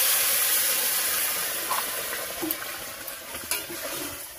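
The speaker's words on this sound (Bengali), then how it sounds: "তো এবার গরম জলটা দিয়ে দিলাম" Hot water poured into a pan of tilapia curry with potatoes and eggplant, a loud steady hiss and sizzle that slowly fades, with a few small clinks and no talk.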